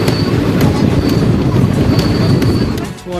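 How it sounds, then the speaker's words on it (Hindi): Delhi Haridwar Express arriving at Deoband railway station in Uttar Pradesh, a loud, steady rumble of wheels and carriages with faint clicks and a brief high squeal, easing slightly at the end. "फिलहाल ट्रेन हमारी उत्तर प्रदेश की देवबंद रेलवे स्टेशन पर अराइवल हो रहा है।"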